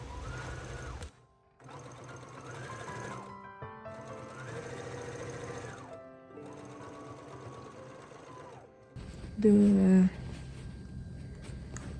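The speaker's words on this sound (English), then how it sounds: "I'm just going to sew this opening" A domestic sewing machine stitches the opening of a fabric tote bag in several steady whirring runs separated by short pauses, ending with a brief higher mechanical whine, fairly close.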